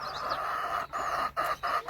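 Chickens on a goat farm cluck and call while being fed maize in the evening, a steady nearby chorus broken by a few brief pauses.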